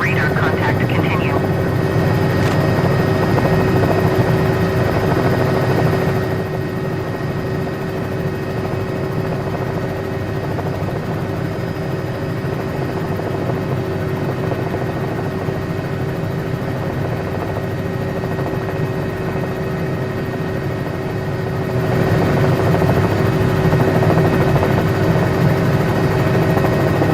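A simulated Cowan 206 helicopter in a flight simulator, mountain flying, gives a steady engine and rotor drone through the whole stretch, dipping slightly in the middle while radio approach-control chatter talks over it.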